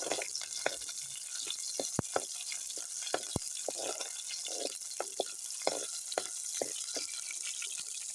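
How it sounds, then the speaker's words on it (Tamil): Whole small onions (shallots) sauté in a pan for a traditional onion thokku. A soft, steady sizzle runs throughout, with sharp clicks and rattles from stirring against the pan. "அடுத்தது முழு சின்ன வெங்காயத்தை சேர்த்து வதக்கி எடுத்துக்கிடலாம்"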